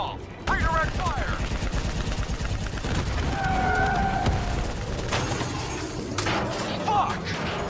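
Gunfire in the Black Ops 3 campaign, a dense, loud stream of shots and rattling bursts with explosions and shouted voices over the top.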